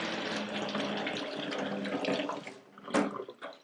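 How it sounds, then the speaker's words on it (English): Cut greens are rinsed under a running kitchen tap for a satay noodle salad, a steady close splashing flow of water that breaks up with a few louder spatters near the end. "just give it another rinse because it can be a bit sandy and gritty"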